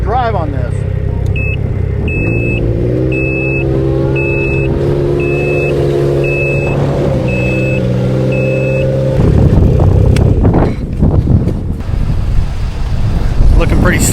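A vehicle drives on a slick, icy mountain road in Alaska: a steady engine drone with a faint repeating chime, swelling into a louder, rougher rumble near the end, with voices present.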